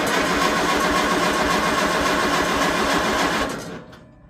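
A tractor engine runs for its first start after winter with a loud, steady mid-pitched chugging, then winds down and falls quiet over the last second.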